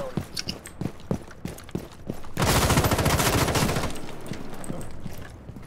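Rapid burst of video game gunfire from a hostage-rescue shooter, a dense loud volley for about a second and a half, preceded and followed by scattered single shots and footsteps.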